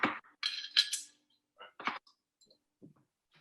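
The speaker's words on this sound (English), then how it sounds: "take a little bit of honey, about a teaspoon, and just mix it in there" A teaspoon stirs honey into a dish in a kitchen, giving several light metallic clinks and taps against the bowl in uneven bursts, close and fairly quiet, with gaps of silence between them.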